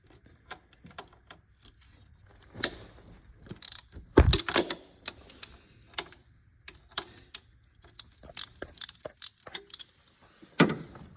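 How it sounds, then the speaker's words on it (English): A ratchet backs out the 13mm alternator bolts during a timing belt and water pump job. It gives close, irregular clicks and taps with a few louder knocks and no talk. "We're gonna take off these bolts on the alternator so we can just pop out of the way so we have more space to work"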